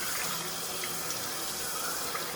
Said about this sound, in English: we're going to rinse it real good